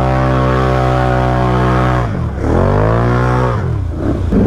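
Can-Am Outlander ATV with snorkel mods grinding through thick mud in two-wheel drive, its engine held at a loud steady drone that dips briefly and surges again, close up with no talking.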